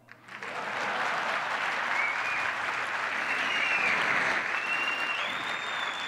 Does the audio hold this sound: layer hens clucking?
no